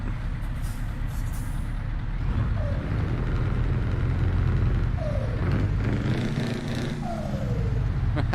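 Heavy truck engine in the Euro Truck Simulator game drones steadily and loud throughout, with a low rumble and a few brief hissing, air-brake-like whistles layered on top.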